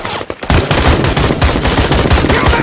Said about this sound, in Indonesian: Ternyata tembakan itu berasal dari Chonin dan pasukan Rusia yang dari semalam mengejar mereka.